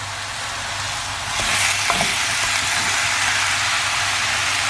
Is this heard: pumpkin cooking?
yes